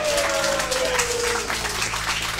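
Applause at a Dutch-language advertising award ceremony, a dense, steady wash of clapping filling the whole stretch with a faint tone sliding through it.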